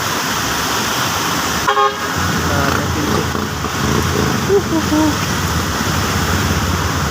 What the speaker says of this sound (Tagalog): ito yung mga dumadaan yung malalaking truck ayan yung malalaking truck galing dun